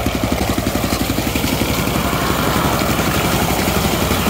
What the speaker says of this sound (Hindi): इंजन चलना पा जी